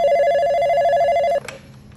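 A telephone rings once while a call is placed to a hospital emergency room, a clear electronic tone lasting over a second before cutting off into quiet.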